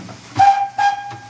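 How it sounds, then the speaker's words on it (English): A steam locomotive whistle gives two loud, close blasts, each a steady pitched shriek over a hissing steam background, followed by a fainter third puff. "Blow the whistle."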